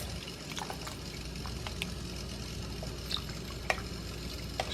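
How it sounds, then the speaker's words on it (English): Water being poured into a thick beef stew made with beef bouillon in a cooking pot, a steady low liquid rush with a few light clinks and splashes, close and fairly quiet. "And we're adding a pint of water"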